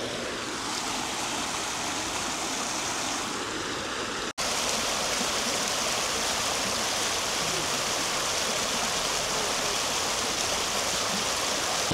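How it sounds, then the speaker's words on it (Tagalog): Water rushes steadily in Cheonggyecheon Stream in Seoul at night, a continuous, close hiss that grows louder and fuller after a brief cut partway through, with no talking. "Ang sarap nung narinig mo yung tubig."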